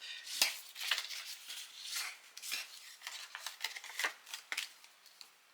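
Small paper bag for holding a chocolate being creased by hand, a run of quick crisp rustles and sharp crackling presses, close and fairly quiet, coming in uneven bursts with short pauses between them.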